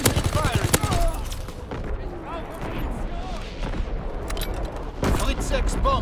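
Dense gunfire rattles through a Call of Duty WWII multiplayer match, rapid bursts and heavy shots layered with booms, while game voice callouts speak over the fighting.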